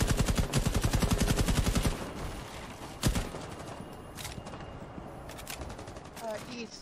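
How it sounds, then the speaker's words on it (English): Gunfire in the video game Rainbow Six Siege: a loud, rapid automatic burst for about two seconds, then a single sharp shot a moment later, followed by scattered quieter clicks and movement noises. "Shots fired."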